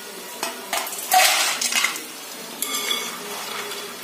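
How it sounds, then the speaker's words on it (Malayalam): Jaggery-coated banana chips stirred in a pan, irregular scraping and clinking bursts of crisp pieces shifting against the metal, close and fairly quiet. "നമ്മുടെ ശർക്കര ഒക്കെ ഇങ്ങനെ എടുത്തിട്ട് ഇളക്കുമ്പോ കണ്ടില്ലേ സൗണ്ട് വ്യത്യാസം"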